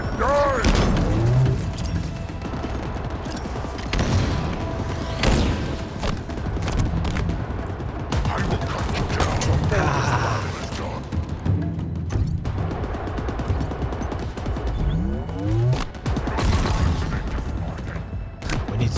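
Grenades go off amid a Halo Infinite firefight, repeated booms and thuds mixed with steady gunfire throughout, while players shout over the din.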